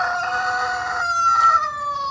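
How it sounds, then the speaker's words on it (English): A rooster on a rural homestead gives one clear, close crow lasting about two seconds, harmonic and strained, set against a quiet background. "that's Lucky crowing."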